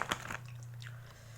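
Crunchy chips being bitten and chewed during a spicy tongseng mukbang, a few sharp crunches at the start that fade into quieter chewing, close to the mic over a steady low hum.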